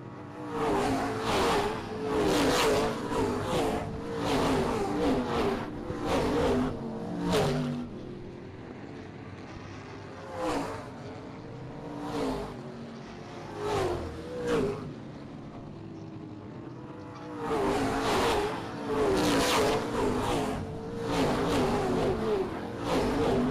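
Race cars at Springport Motor Speedway roar past in repeated loud waves, engines swelling and fading as the pack circles, with brief quieter gaps between passes.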